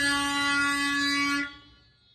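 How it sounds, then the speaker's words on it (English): A single loud horn blares in one steady, sustained honk for over a second, then cuts off abruptly and leaves a quiet tail. "the horn is honking so loud like that"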